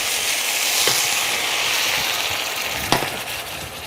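Lentils deglazed in a buttered pan give a steady, broad sizzle throughout, with two brief sharp clinks or pops standing out over the hiss, close and fairly loud, no talk.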